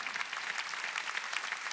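Congregation in a church service clapping steadily and continuously, a dense, even wash of many hands applauding together with no talk over it.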